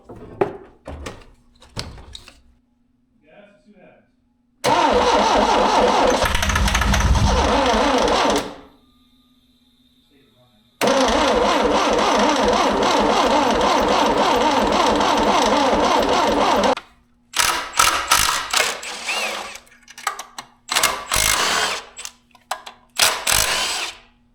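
A 5-speed Chevrolet Beretta Z26 with the Quad 4 engine cranks on a fresh battery, with two long, loud, close starter runs of several seconds each that grind evenly but do not fire, separated by silence and followed by clicks and clunks.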